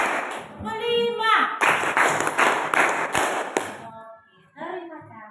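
A class of pupils claps hands together in a counted rhythm, with a teacher leading. Bursts of sharp, dense claps are heard close by, interspersed with voices chanting and talking.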